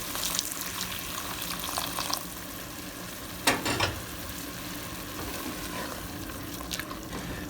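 Risotto rice cooking in hot mushroom stock, a steady soft sizzle and bubbling with a brief louder stir or clatter midway, close and alone without talk.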